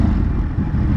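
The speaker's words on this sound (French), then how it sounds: "on a ce bruit, ce grognement caractéristique vraiment du Monster" A 2021 Ducati Monster motorcycle engine idles close by, a steady low rumbling growl without revving, alone and with no voices.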